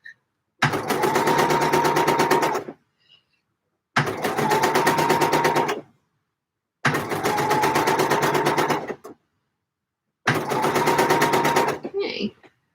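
A sewing machine stitches dress fabric for a bodice in four loud, close bursts of rapid, even stitching, each roughly two seconds long, separated by short pauses.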